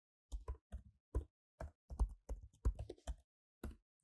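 Someone types a username and password on a computer keyboard with a dozen or so distinct close key presses in an uneven rhythm and quiet gaps between them.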